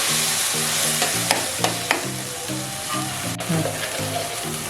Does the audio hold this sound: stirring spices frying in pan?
yes